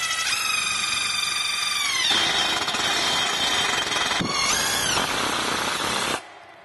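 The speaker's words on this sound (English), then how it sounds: "We're going to use a 5/16 driver, and with these self-tapping screws, put the wire holders in place going up the swing arm." A 5/16 driver runs self-tapping screws into a Jeep JL rear bumper's swing arm to fix wire holders: one loud, close, steady mechanical whine whose pitch dips and recovers as each screw bites, then cuts off abruptly near the end.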